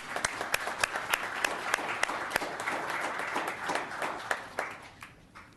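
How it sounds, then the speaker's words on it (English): Audience applause at a town council meeting, a room full of hands clapping with sharp individual claps standing out, fading out toward the end. "Round of applause."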